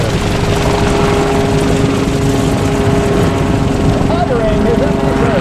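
Propeller aircraft engine at a Northeastern Pennsylvania airshow, a steady loud drone with a low tonal hum filling the whole stretch, likely a 360-plus horsepower plane, with crowd and commentary noise mixed in.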